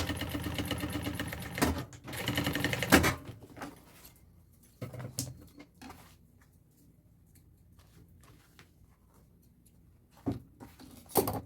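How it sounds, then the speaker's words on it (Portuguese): A sewing machine stitching the lining of an executive bag, short loud bursts of rapid stitching near the start, then quieter handling sounds, scattered clicks and brief stitching runs near the end. "Esconde o forro, costura seguindo a linha."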